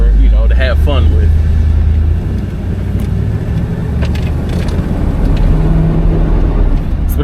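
A small, light 1978 Chevrolet Corvette with a 350 engine drives along, its low engine rumble steady and close throughout, with someone speaking briefly near the start over the motor.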